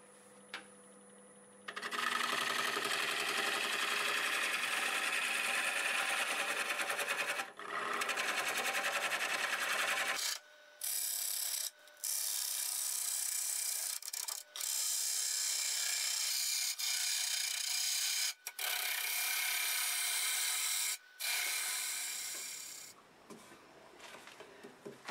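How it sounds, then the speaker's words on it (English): A bowl gouge cuts dry flame maple burl spinning on a lathe, producing a loud, continuous scraping and rushing sound broken by several brief pauses as the tool is lifted, then fading at the end. "Pretty warm shavings coming off of there. I go to this conventional grind bowl gouge."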